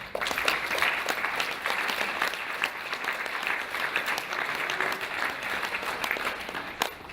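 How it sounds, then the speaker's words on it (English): A conference crowd gives sustained applause, many hands clapping in a thick, continuous roar that stays even from start to finish. "Give them a hand clap."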